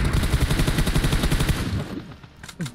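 Video game gunfire: rapid automatic bursts crackle continuously at close range, then thin out into a few scattered single shots and softer distant reports.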